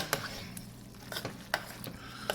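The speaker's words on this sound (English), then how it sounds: "Just gonna stir it up and mix it in real good." Spaghetti noodles and meat sauce being stirred in a pot, with a few separate scraping clinks of the utensil against the pot over a low background hum.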